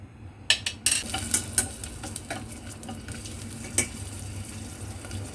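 Ginger and garlic stir-frying in hot oil in a pan, a near sizzle punctuated by a run of sharp scraping and clattering strokes early on, settling into a steadier hiss with occasional utensil knocks.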